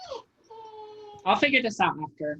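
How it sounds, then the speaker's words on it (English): A pet dog whines with a steady high tone for about a second, then talk takes over and a voice speaks over it. "That's my dog whining in the background."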